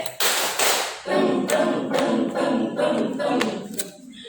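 A group claps the 'tepuk toge' clap chant in rhythm, six sharp, bright claps in a steady pattern, with voices chanting between the hits at a lively teachers' gathering.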